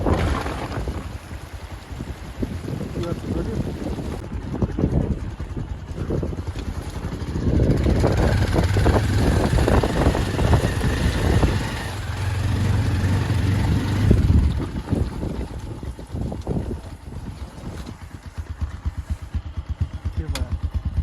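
A 220 motorcycle rides a rough off-road mountain route with a failing rear brake. Its engine drones continuously and close, with heavy wind buffeting the microphone throughout.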